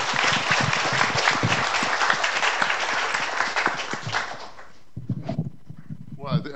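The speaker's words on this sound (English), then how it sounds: "just a round of applause for Motoko." Audience applauding steadily at a panel discussion, dense loud clapping for about five seconds that thins out as a voice begins speaking near the end.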